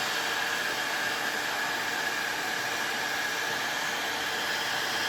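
Heat gun warming a GasGas motorcycle front wheel hub around the bearing, a steady airy blowing whoosh with a faint whine, constant and close for the whole stretch with no talking.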